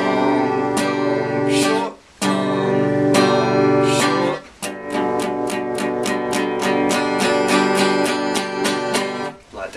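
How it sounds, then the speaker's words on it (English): An acoustic-sounding strummed guitar plays a chord repeatedly in quick down strokes that accelerate and pack closer together, with a couple of brief pauses, loud and close with no talking. "Or you can do a whole lot of little down strokes that'll add up to 16"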